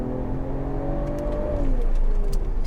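A Mercedes-AMG GT 53 accelerating hard in second gear, its engine note rising steadily and growing louder over a couple of seconds, recorded close up with no talk.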